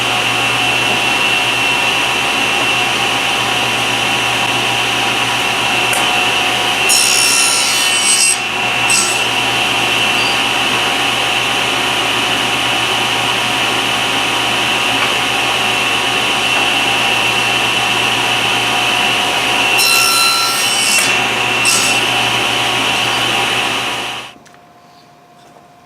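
Steady, loud rasping hum of a saw cutting a double tusk tenon wooden test piece, continuing nearly unbroken with a few scraping accents before stopping abruptly near the end.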